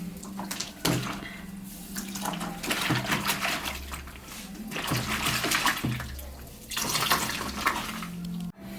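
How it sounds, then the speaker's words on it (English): Warm water runs from a tap in steady bursts, splashing and gurgling as a makeup brush is rinsed beneath it, with brief pauses between rinses. "So I'm now rinsing using warm water as well."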